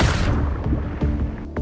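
A single heavy gunshot fired into a frozen lake's ice in the film No Time to Die: one loud, booming blast at the start with a long rumbling decay and a few faint cracks trailing after it.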